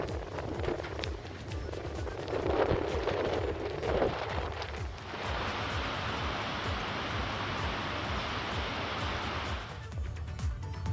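Continuous rain falls at Badrinath in Uttarakhand, a steady broadband hiss of drops that swells for several seconds mid-clip, with a low background rumble throughout.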